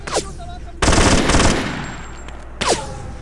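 Rapid machine gun fire in the Black Ops 2 video game, a loud dense burst of about three-quarters of a second, then a quieter pause with a brief blast at the end.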